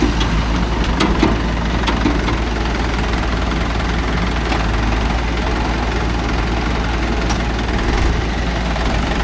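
A Mahindra Yuvo Tech Plus 585 4WD tractor engine runs close by at a steady, loud, low chugging idle with light knocking, unbroken and without speech throughout.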